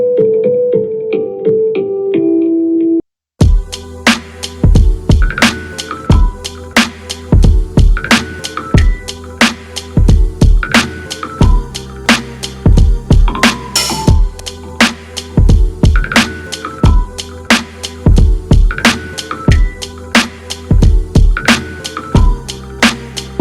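Chopped keys run through an amp simulator in a boom bap beat: a few seconds of soft stepped keyboard notes alone, a brief gap, then punchy drums hit in a steady loop under the chopped keys, loud and close.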